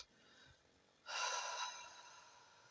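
A single deep breath of a person, a broad airy inhalation rising sharply around the middle and fading out over about half a second, alone in a quiet room with no talk.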